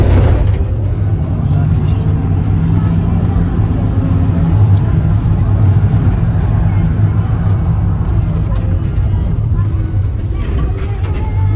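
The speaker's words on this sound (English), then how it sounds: "That's the car that connects us to Ndalat." A car that carries riders to Ndalat drives along in Eldoret, Kenya, its steady engine and road noise loud and close throughout, with a person talking over it.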